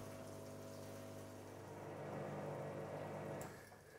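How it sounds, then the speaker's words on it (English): Water drains from the steam cylinder of a HygroMatik HeaterLine steam humidifier, a steady faint gushing flow with a pump-like hum that swells slightly, then eases near the end. "I first need to make sure that the water is drained from the steam cylinder"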